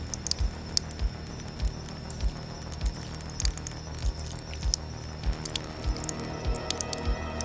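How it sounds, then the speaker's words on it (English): Steady drops of liquid fall at a slow, fairly even pace, each a soft wet tap over a quiet hum. "You can hear some sort of liquid dripping."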